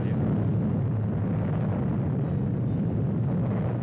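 The 1952 Mike hydrogen bomb test at the Pacific Proving Ground: a sustained, heavy, deep roaring rumble that fills the whole stretch at a steady loudness.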